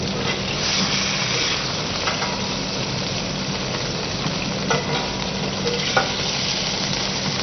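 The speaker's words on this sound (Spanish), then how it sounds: "Dorar en el mismo recipiente cebollas émice y manzanas." Onions and apples browning in a braiser, a continuous loud sizzle and frying crackle with occasional stirring scrapes.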